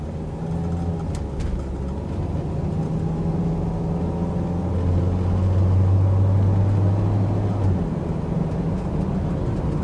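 A Toyota Corolla on a test drive after repairs for water and oil leaks, steady engine drone and road noise heard from inside the car, rising slightly in pitch midway as it accelerates.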